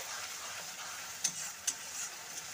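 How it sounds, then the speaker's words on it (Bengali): A tomato and egg chutney cooks quietly in a pan, giving a soft, steady sizzle with a couple of faint clicks of a utensil as it is stirred. "তো আমি ঢাকনাটা সরিয়ে আবার একবারও নাড়াচাড়া করছি"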